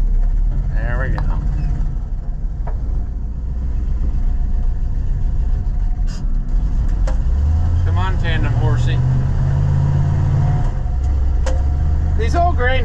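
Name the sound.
old grain truck engine running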